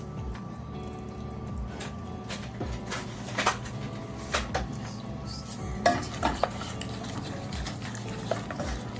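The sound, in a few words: sauce boiling down into a glaze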